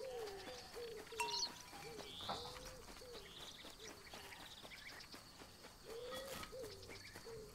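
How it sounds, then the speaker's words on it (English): Bird calls from the video game Alba: a Wildlife Adventure, a mix of repeated cooing, hooting notes and chirps over a soft insect-like background, moderately faint with no talking. "That bird? Wait, what bird?"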